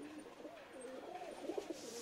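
Punjabi and Madrasi pigeons in a small group of about ten give soft, low cooing calls, faint and close, a few short throaty phrases with no talk.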